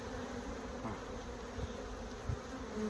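A steady, droning buzz of many honeybees fills the air during a hive inspection, continuous and close, with faint handling bumps underneath.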